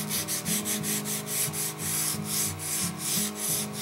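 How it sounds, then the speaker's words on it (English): White oak cribbage board being hand sanded with steady, rhythmic back-and-forth strokes, about three per second, close and moderately loud with no talking. "So let's take it and do some sanding on it."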